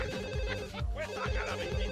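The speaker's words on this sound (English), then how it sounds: "Are you gonna answer that? Nobody answers the phone around here." A telephone rings inside The Sims Bustin' Out video game, a steady electronic trill repeating over two seconds at moderate volume, with a faint voice and other game sounds underneath.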